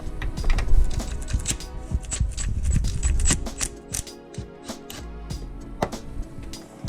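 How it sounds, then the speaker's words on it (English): Mechanical clicking and ratcheting as a socket wrench works an oil pan bolt loose under a 2004-2008 Ford F-150 with the 4.6L V8, busy rapid ticks and metallic rattles close by with no talking. "Now here's the last bolt that I'm removing for the oil pan."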